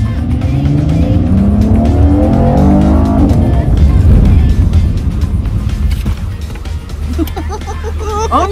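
A Camaro driven hard at speed gives a loud, close engine roar that climbs through the revs, then shifts and squeals its tires; excited voices break in near the end.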